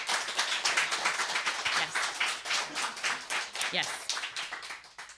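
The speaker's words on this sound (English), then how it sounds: "So let's give them a big round of applause." An audience at a young writers' reading event claps in an uneven, moderately loud round of applause, with a short spoken word from a voice near the end.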